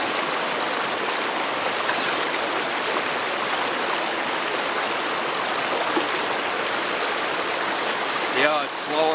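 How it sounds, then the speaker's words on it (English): Raging water rushes steadily over rocks, a loud, dense, continuous roar heard close by, with a short burst of other sound near the end. "The water's still raging over pretty good."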